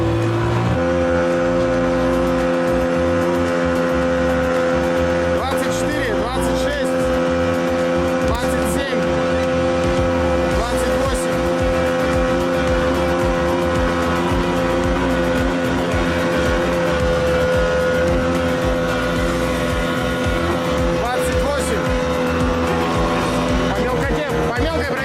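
Outboard motor pushing a Vydra boat loaded with 700 kg as it starts off: a loud, steady droning engine with a strong harmonic whine throughout, close by, with people talking over it.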